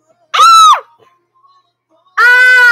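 People screaming in a home bathtub setting, two loud sustained shouts separated by a silent pause of over a second, close to the microphone.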